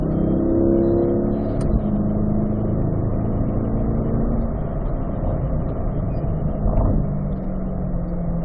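A race car on a track with Ron Fellows downshifts into third gear approaching turn four, a continuous engine drone with shifting tones and a brief blip of revs, heard from inside the car without talk.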